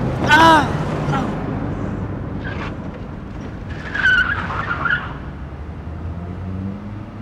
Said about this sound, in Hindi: और गाड़ी मार के चली गई, देखो।